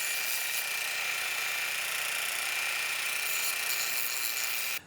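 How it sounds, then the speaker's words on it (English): A belt sander grinds down the corners of a PVC snowboard binding highback with a steady, even, hissing whir that runs unbroken and then cuts off abruptly at the end. "So I'm going to take down some material with the belt sander on these two corners."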